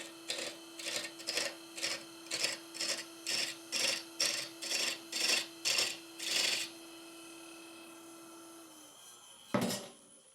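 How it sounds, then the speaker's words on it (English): A pointing tool scores a series of grooves into a wooden face, about a dozen even, rhythmic scraping strokes close up with a steady hum beneath, followed by a single louder knock near the end. "use this pointing tool to make a series of grooves on this face"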